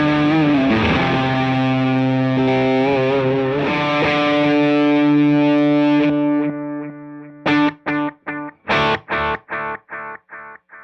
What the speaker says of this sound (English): It's just a really awesome distortion sound, and this delay sound is excellent too.